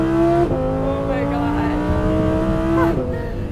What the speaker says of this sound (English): oh my God, with the quick acceleration like that.